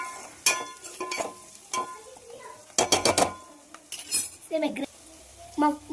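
A spoon clinks and scrapes through chicken curry in a pan as turmeric is mixed in, giving sharp metallic taps and clusters of rapid scraping strokes close by, with faint sizzling underneath.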